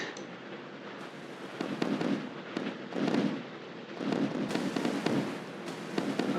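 Naval guns firing in the modern warship game Sea Power, a distant, busy barrage of overlapping pops and thuds in irregular clusters over a steady background rumble.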